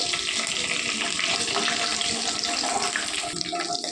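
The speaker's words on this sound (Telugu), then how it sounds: "ఉప్పు పసుపు వేసి కొద్దిగా వేగాలండి." Boiled broad beans fry with salt and turmeric in a pan, giving a continuous dense hiss and sizzle at close range, steady and without talk.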